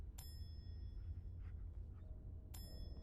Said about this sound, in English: Gotta ring the bell.